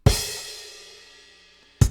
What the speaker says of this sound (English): It's going to be a kick drum and a crash cymbal